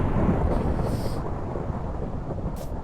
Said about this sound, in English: if it starts raining or thunder, so if I put the thunder on